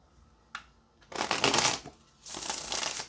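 Tarot cards are shuffled in two quick riffling bursts after a soft tap, crisp and close, with brief quiet between them.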